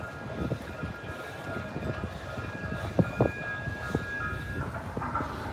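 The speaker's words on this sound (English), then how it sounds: "Sounds like a train." A train passes near the Ocean City boardwalk, a steady rumbling roar with tonal wheel or horn-like squeal lines that holds for several seconds, with clunks and rattles mixed in.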